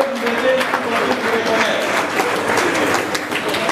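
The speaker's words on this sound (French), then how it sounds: "Que je vous demande d'applaudir très fortement" Loud crowd applause at a national young women's forum, continuous clapping filling the hall with cheering voices and murmurs mixed in throughout.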